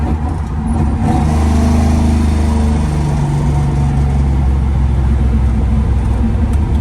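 A 1967-1972 Chevrolet C10 truck engine, held back by overly tall transmission gearing, drones loudly and steadily as it revs under load and bogs, heard from inside the cab with no talk.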